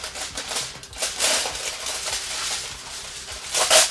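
A serrated-edge blade saws through material for a DIY film light in a series of close, rasping strokes with irregular rhythm, at moderate loudness and without speech.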